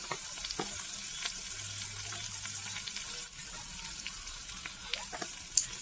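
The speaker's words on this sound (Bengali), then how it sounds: "এবার ভালোভাবে এইভাবে আবার নেড়ে চেড়ে নেব" Ground cumin, turmeric, chilli and coriander powders frying in a pan for a jackfruit and fat curry, a steady close sizzle with occasional scraping stirs and small clinks.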